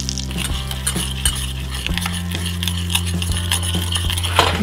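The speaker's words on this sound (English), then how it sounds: "And pour the tree gum in." Tree gum poured into a hot buttered pot sizzles and spits steadily while a utensil stirs and scrapes, with sharp metallic clinks against the pot close by.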